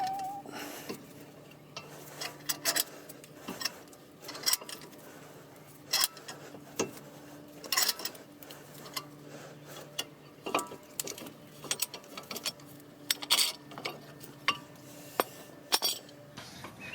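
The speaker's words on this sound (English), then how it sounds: "Loosen it a turn, press a button, and I can slide it in and out real fast" A quick-release C-clamp presses back the front brake caliper piston on a 2011 Chrysler Town and Country. It gives repeated close metallic clicks, ratcheting and clinking taps at an irregular pace against a quiet background, with no talking.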